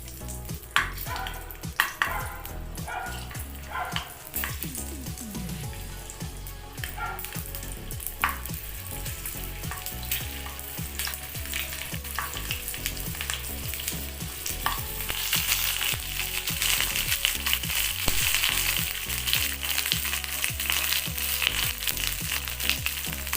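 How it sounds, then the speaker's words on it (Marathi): Stuffed green chillies shallow-frying in hot oil, a continuous bubbling sizzle with clattering pops and scraping as they are turned, growing louder and hissier toward the end, with no one speaking. "आता मी मिरच्या सोडते तेलामध्ये."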